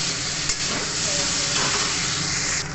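Spices fry in a hot pan with turmeric, a dense continuous sizzle with stirring scrapes and a couple of sharp clinks of the utensil, close and steady.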